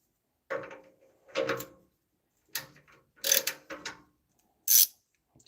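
A ratchet tightens exhaust bolts on a 1996–2005 Chevy Astro AWD van in short, separate bursts of clicking, close and distinct, with silent gaps between strokes.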